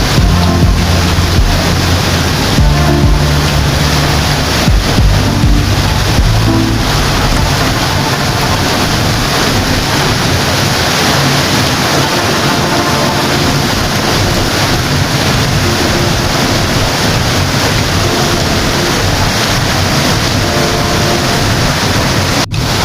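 Curug Juneng waterfall at Karangsalam, Baturaden, on an overcast day: a loud, continuous rushing roar of falling water, dense and unbroken throughout, with some wind buffeting.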